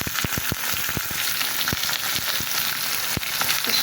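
Hilsa fish heads frying in a pan over browned onion, a dense continuous sizzle broken by crackling pops, close up with no talk.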